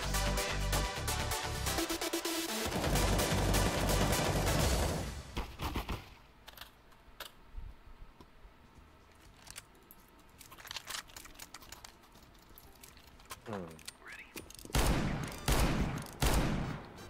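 Gunfire in Counter-Strike: Global Offensive on the Office map, a dense burst of rapid shots for the first five seconds, then quieter scattered clicks and a few later bursts of shots near the end.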